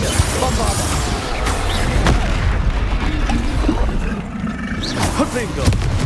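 A Bombarda spell explodes in Hogwarts Legacy, landing as a deep booming blast amid a dense, roaring layer of combat effects. A voice calls out spell names over the din.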